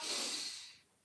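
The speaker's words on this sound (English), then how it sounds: "So just a nice big inhale" A big, deep inhale during a mobility breathing exercise, a loud airy rush through the nose and mouth that swells and then fades into quiet.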